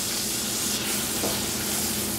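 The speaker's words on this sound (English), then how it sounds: "And put it in the butter and olive oil and let it cook up." Ras el hanout spice sizzles in a pan of butter and olive oil, giving a close, continuous crackling hiss with no voices over it.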